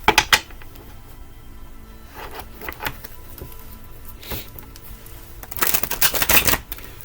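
Affirmation cards being shuffled and handled at close range, with crisp papery riffles and taps at the start, scattered flicks through the middle, and a dense burst of shuffling near the end.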